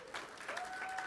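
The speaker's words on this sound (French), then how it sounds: "Ok, oui, on peut l'applaudir." Congregation applauding during a French church sermon, a brief, fairly faint patter of clapping with a sustained tone running underneath.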